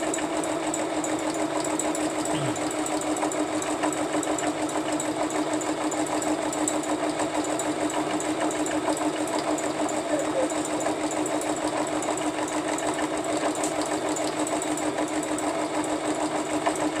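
A sewing machine runs continuously at a steady pace, its rapid mechanical stitching and whirring even and close throughout.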